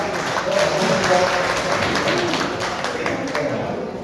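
A hall audience at a Democratic Party members' day event in Gumi claps to welcome a lecturer, giving a steady, fairly loud burst of applause that fades slightly toward the end.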